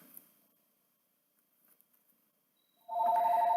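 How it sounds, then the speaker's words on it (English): A telephone starts ringing near the end with a fast electronic warble, loud and close, after a near-silent stretch of faint taps and rustles. "The phone's ringing, but it doesn't matter."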